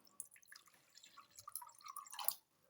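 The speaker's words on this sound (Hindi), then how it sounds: "आधा ग्लास मैंने पानी ऐड किया है।" Water poured from half a glass into a mixing bowl while making pizza dough, heard as soft splashing and dripping trickles, quiet and close, with no talking.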